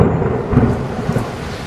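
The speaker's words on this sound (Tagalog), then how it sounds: "umuulan na" A loud, continuous rumble of thunder with a wash of heavy rain filling the background, close and enveloping, in an animated camping scene.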